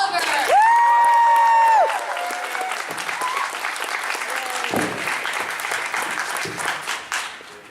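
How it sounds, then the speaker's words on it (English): An audience at a voice actors panel applauds loudly for Tony Oliver, steady crowd clapping that runs throughout after a brief bright electronic tone at the start. "let's give a big round of applause to Tony Oliver"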